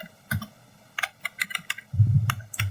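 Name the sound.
typing on a computer keyboard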